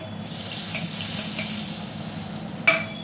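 Turmeric and red chili powder sizzle softly in hot oil in a home kitchen pan, a steady low crackle with a brief clink near the end.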